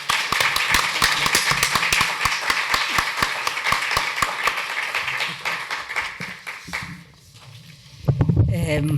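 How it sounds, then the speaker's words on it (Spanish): An audience at a talk on rural literature applauds, loud, dense clapping with sharp individual claps for several seconds that thins and fades, after which a voice begins speaking. "Un aplauso para ella, por favor."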